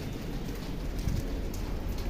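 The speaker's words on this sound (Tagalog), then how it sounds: "Ayan, basang-basa na tayo sa ulan." Rain falls steadily in an outdoor park, a dense hiss of drops with a low rumble beneath, at moderate level and without talk.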